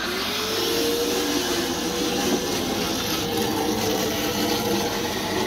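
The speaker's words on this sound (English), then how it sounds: "So I'll switch the vac on." Pond vacuum switched on, running as a steady, loud whooshing drone with gurgling water throughout.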